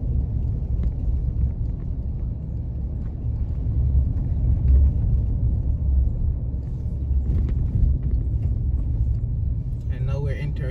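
A car driving through Chancery Hall, St. Andrew, Jamaica, giving a steady low rumble of engine and road noise throughout, while someone talks over it.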